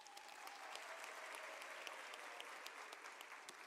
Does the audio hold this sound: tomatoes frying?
no